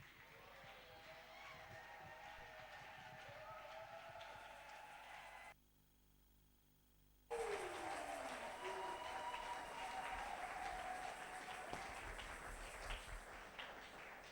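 Church congregation applauding and acclaiming during a sermon, a steady wash of clapping and crowd noise that drops out briefly, then returns louder and continues to the end, heard at a moderate distance.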